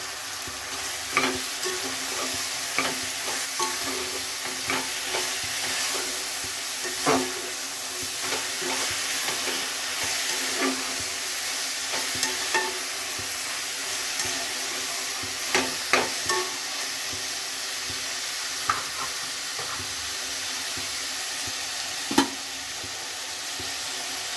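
Chopped tomatoes sizzle steadily in a hot pan for methi pulao, with a spoon scraping and stirring at irregular moments through the continuous frying hiss.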